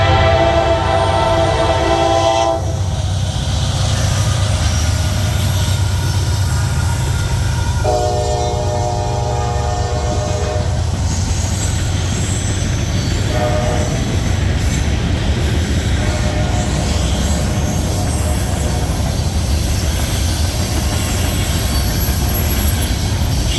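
An EMD SD60E diesel locomotive, rebuilt from unit 6594 and nearly 38 years old, rumbles past on the D&H with a steady heavy engine drone and rolling wheel noise, with horn-like tones sounding over the passage, loud and close throughout.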